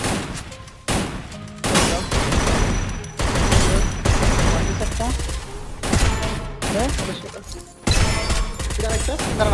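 Sniper and rapid gunfire in the mobile battle royale game Free Fire during an esports match, loud repeated shots and bursts packed closely together, with an excited commentator talking over the action.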